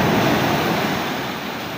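Large, rough ocean waves surge and crash onto a beach, a steady loud roar of surf and rushing water, close by, with no voices.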